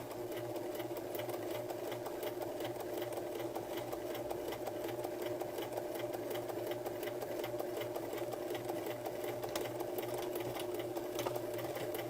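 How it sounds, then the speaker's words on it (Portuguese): A non-automatic domestic sewing machine stitching fabric for a rag doll, its needle running in a fast, steady, even whir that continues throughout without talk. "Essa minha máquina não é automática, tá?"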